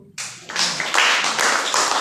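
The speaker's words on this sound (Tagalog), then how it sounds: "May palakpak natin ang Panginoon." A church congregation breaks into applause after a brief quiet start, the clapping swelling quickly into a steady, dense patter that carries on to the end.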